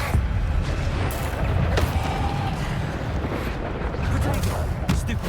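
A Bombarda blasting spell explodes in the video game Hogwarts Legacy, a dense rumbling boom amid continuous battle noise and low crashes, with brief sharp bursts and voices underneath.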